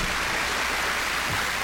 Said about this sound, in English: Let's give these spokespeople a warm round of applause.